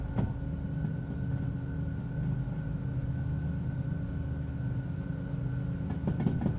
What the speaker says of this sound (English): This train is, I'm still thinking, over a kilometer in length.